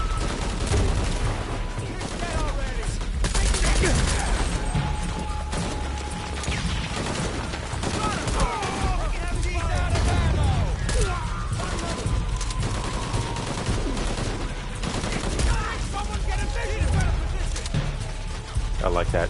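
Sustained video-game gunfire from Shadow of the Tomb Raider, with dense bursts of rapid shots and heavy impacts filling the whole stretch at a steady loud level, and voices talking over the combat.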